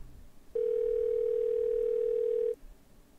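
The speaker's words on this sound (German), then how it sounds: "Okay, wir rufen mal bei Edna an." A telephone dial tone in the video game Thimbleweed Park: one steady, loud, even tone that starts abruptly, holds for about two seconds and cuts off just as abruptly, over a quiet background.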